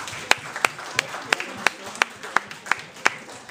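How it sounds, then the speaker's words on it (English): A small audience at a college lecture on the UK economy claps after the talk, a sparse and thin round of applause with distinct, evenly spaced sharp claps standing out above a faint background of hands. "Another round of applause"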